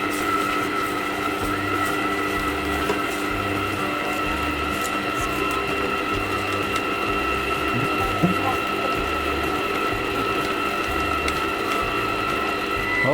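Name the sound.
mixer machine stirring glutinous rice dough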